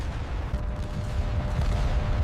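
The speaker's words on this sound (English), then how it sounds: "Explosions rock the formation." Deep, rumbling booms roll continuously like distant explosions or artillery around a WWII B-17 bomber formation, dense and low with no distinct separate blasts.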